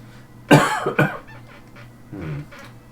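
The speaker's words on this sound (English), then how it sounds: "I have a bit of a cough" Two sharp coughs close together, then a softer cough a moment later, close and fairly loud with no talking.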